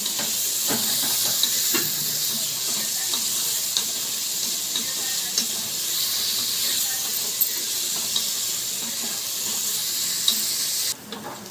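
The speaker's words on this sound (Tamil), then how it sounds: "இப்போ வந்து இந்த வெங்காயம் வந்து நல்லா பொன்னிறமாக ஆகிற வரைக்கும் நல்லா வதக்கிக்கலாம்" Onions frying in a pan for chicken biryani, a steady broad hiss of sizzling oil with occasional light stirring clicks, close and continuous, ending abruptly.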